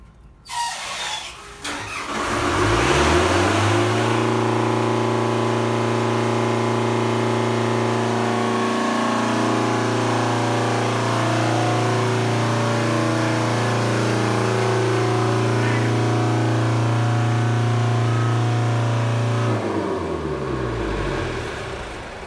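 A fire pump in a fire protection system starts up with a quick rising whine, then runs as a loud, steady mechanical drone for about twenty seconds before winding down at the end.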